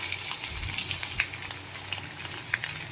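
Garlic, cumin seeds and asafoetida sizzling in hot oil in a pan: a close, soft, steady frying hiss dotted with small crackles and pops, with no voices.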